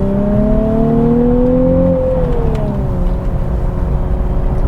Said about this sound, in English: it revved the engine to match the gearbox